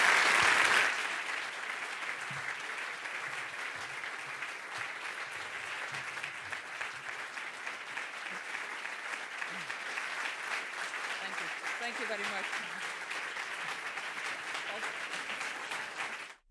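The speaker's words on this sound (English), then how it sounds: "we should all already give her a big applause for" An audience applauds Katalin Karikó, sustained clapping from a large crowd that holds steady for about sixteen seconds, opening with a louder burst and fading out at the end.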